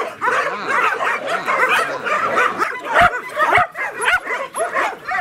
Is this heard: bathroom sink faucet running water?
no